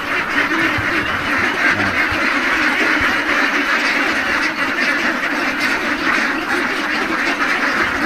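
A flock of ducks on a newly built duck farm in Davao, Philippines, quacks continuously in a dense, loud, overlapping chorus with no pauses.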